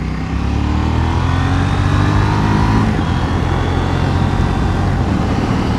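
A KTM Duke 790 motorcycle accelerates hard with a loud, continuous engine roar whose pitch climbs steadily, heard up close from the rider's position with wind noise and no talking.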